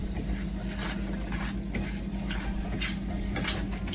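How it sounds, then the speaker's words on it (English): Butter-garlic sauce with crushed red chili is stirred in a pan, giving soft, steady scraping and light clinks of a utensil over a continuous low background hum, close and moderately quiet. "Now I'm just gonna mix it around like that."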